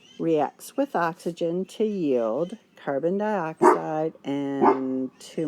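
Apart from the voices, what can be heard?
dogs barking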